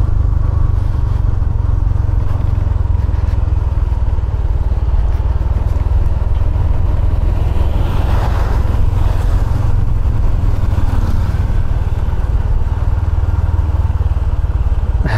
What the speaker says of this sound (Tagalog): pag gantong tarik, ang diskarte ko 4th gear lang, para smooth lang yung pagbaba ng motor